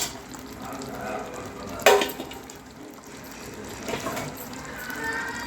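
A quick splash of water poured into a hot pan of cooking gravy, followed by steady sizzling and light stirring nearby.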